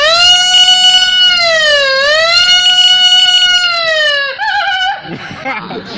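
A voice imitates a VIP car siren with a sustained, loud, wavering wail that dips and rises, then breaks into shorter vocal sounds near the end.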